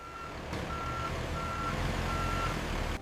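A truck reverses at a loading dock with steady, evenly spaced backup beeps sounding over a constant engine rumble, close and loud, with no voices.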